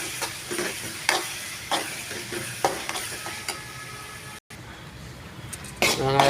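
Curry leaves sautéed with onion and tomato in a pan for a drumstick chicken gravy: a constant loud sizzle with repeated spoon scrapes and stirring knocks against the pan.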